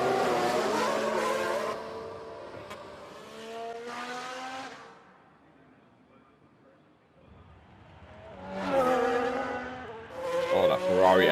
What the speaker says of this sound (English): Oh, that Ferrari engine just sounds so good when it goes flying by.